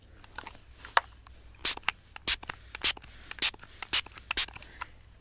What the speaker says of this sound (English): Just gonna spray this all on the nails.